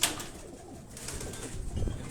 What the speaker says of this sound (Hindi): ये भी उनके आगे प्रवासी कबूतर हैं।